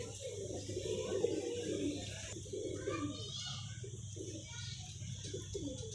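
Pigeons coo softly in low, throaty warbles, several overlapping calls under a faint background hum, fairly close.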